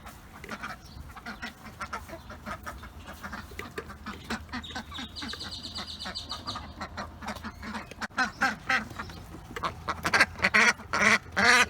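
Farm ducks quack repeatedly in a busy, overlapping chorus that grows louder and more insistent toward the end, with other poultry sounds mixed in.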